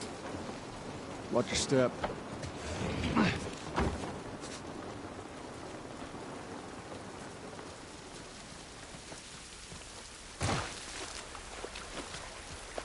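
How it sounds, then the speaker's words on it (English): Steady rain in The Last of Us Part I, a wide hiss of drops on surfaces running the whole time at moderate level, with people talking briefly over it and a few louder footsteps or knocks early on. "This rain ain't gonna do us any good."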